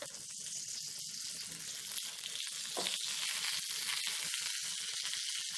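Cactus paddles (nopales) fry in a hot pan with a loud, steady sizzle and crackle that holds close and even throughout, with no talking.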